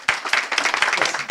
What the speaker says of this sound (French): Est-ce que vous pouvez l'applaudir, s'il vous plaît ?